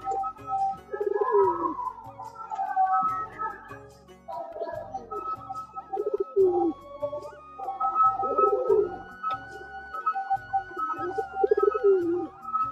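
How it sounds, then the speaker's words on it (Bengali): Giribaz pigeons cooing repeatedly in a loft, several rolling coos overlapping one another, close and fairly loud throughout with no talk. "মেয়ে পায়রাও ডাকে জানি, বাট এই পায়রাটা একটু খুব অতিরিক্ত"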